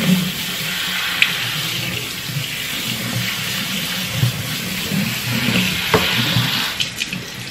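Tap water runs steadily into a pot of rice being rinsed, a continuous splashing stream heard up close with a few small clinks and sloshes along the way, without any talking.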